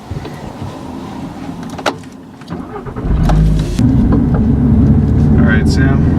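A 2013 Audi TT RS five-cylinder turbo engine cranks and fires into a steady, loud idle after a quiet moment with a few clicks and a door-like thump, voices talking briefly beforehand.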